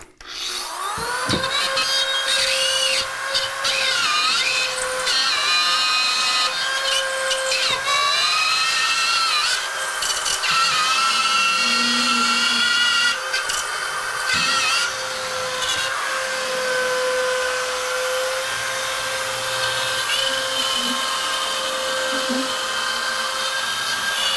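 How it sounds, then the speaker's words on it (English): A RenoVision rotary drywall cutout tool cutting through drywall while tiling a wall: a loud high-pitched motor whine that runs almost continuously, with grinding rasps and brief dips in pitch as the bit bites into the board. "Now this is a RenoVision. You can also use a Dremel. They have drywall cutout tools."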